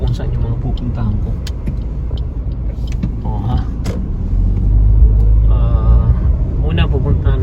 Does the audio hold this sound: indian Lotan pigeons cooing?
no